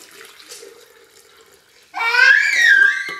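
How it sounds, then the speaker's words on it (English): Two cups of boiling water poured into a blender jar, a quiet lead-in giving way to a loud, bright, gurgling splash that runs steadily to the end. "I'm gonna pour that into the blender."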